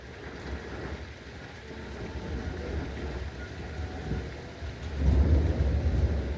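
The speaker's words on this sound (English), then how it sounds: "the storm's getting bad right now" Thunder rumbles low and grows louder toward the end, with a steady wash of rain and wind noise underneath.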